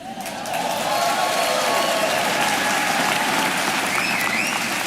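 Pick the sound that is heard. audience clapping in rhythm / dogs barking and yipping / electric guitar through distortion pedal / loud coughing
audience clapping in rhythm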